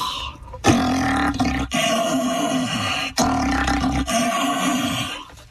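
A person imitates a lion's roar by growling through an empty paper towel roll, producing two long, loud, resonant roars separated by a brief breath.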